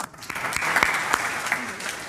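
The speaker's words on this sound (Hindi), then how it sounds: "एक बार जोरदार आप लोग ताली बजाइए" Listeners at a devotional panel talk clap together in a short burst of applause, a moderately dense patter of hands in a room with a few sharper claps standing out.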